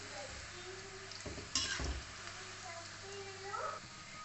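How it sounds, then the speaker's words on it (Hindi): Namkin khajur snack frying in oil on low gas, a soft steady sizzle with occasional stirring clinks, faint and close, while someone talks over it. "तलने के लिए आपको गैस को कम करके तलिएगा, ध्यान रखिएगा।"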